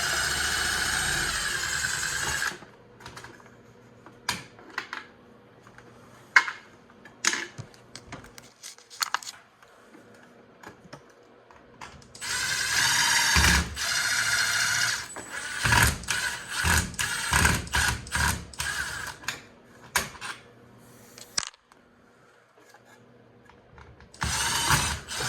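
Cordless drill backing long screws out of an exit sign during electrical work in a storage room, heard as repeated bursts of whirring motor and ratcheting, some short and some sustained, close by with quiet pauses between.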